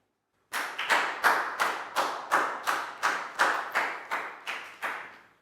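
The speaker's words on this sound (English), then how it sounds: "a big round of applause for Nadia, guys." A Year 4 maths class gives a round of applause for a student: about a dozen evenly spaced, rhythmic claps in unison, each with a short echoing decay, clear and moderately loud against a quiet room.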